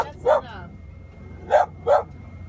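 A big dog barks outdoors near an RV, giving three loud, separate barks with a pause between the first and the last two, while a person speaks in the background.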